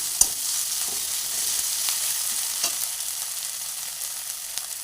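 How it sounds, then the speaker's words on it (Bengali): Ginger-garlic paste fries in hot oil while being stirred for a spicy amudi fish curry with winter vegetables, a steady bright sizzle broken by a few sharp utensil scrapes and taps, close and alone. "নেড়ে চেড়ে ভালো করে মিশিয়ে দেবো।"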